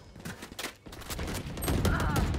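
Gunfire in the tactical shooter Valorant: a quick volley of several close rifle shots in uneven succession over game ambience, fairly quiet overall.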